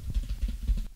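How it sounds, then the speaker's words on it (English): Quick, soft keystrokes tap in a steady patter on a computer keyboard for about a second, close by and with no voices. "He's the one that's actually typing."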